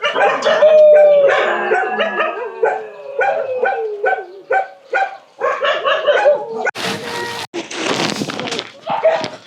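Several dogs at an animal shelter bark, yip and howl in a loud, overlapping chorus, with sharp repeated barks giving way to bursts of noisy commotion near the end.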